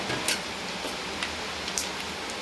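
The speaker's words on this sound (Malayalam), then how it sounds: "ആ മഴയുടെ ശബ്ദമാണ് കേൾക്കുന്നത്" Steady rain hisses outside as a constant wash of noise, with a few sharp drips ticking now and then.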